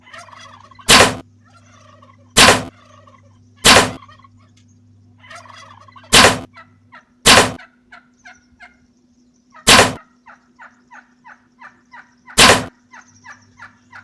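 A wild turkey gobbling outdoors, repeated loud rattling gobbles alternating with sharp clicking clucks and softer calls, spaced across the stretch with quiet gaps and a low steady hum underneath.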